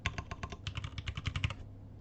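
Quick keystrokes on a computer keyboard while working in After Effects, a close, brisk run of light clicks that stops near the end, leaving quiet room tone.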